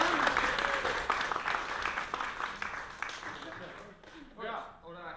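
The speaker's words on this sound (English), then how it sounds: "That deserves a clap over here." Wedding guests clap after a best man speech, a loud burst of many hands near the start that gradually thins out, with voices and chatter rising over it toward the end.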